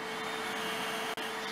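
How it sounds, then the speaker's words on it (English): A vacuum on a workshop assistant robot drones steadily as it sucks up metal shavings from drilling near a vise, with one brief dip in the whine; no one speaks. "it will move in with a vacuum and suck up any metal shavings to keep the workplace clean."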